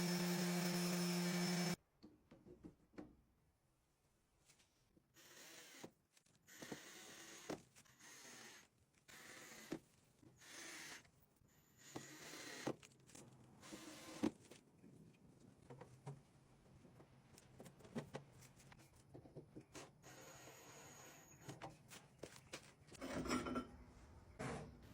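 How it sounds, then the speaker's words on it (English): Intermittent scraping and rasping of sandpaper removing rust from small metal screws of an antique clock, irregular strokes with pauses between, close and fairly quiet. "Just going to sand down any of the rust that wasn't removed overnight"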